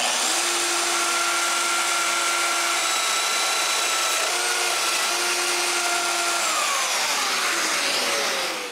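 A power drill bores 25 mm holes into a piece of wood for a mortise, running steadily and loudly with a sustained whine and brief pitch dips, alone without talk.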